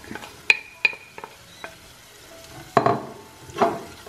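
Fried raisins are stirred into raisin pickle masala in a pan, with sharp spoon clicks against the metal, scraping strokes and a soft sizzle, close and alone.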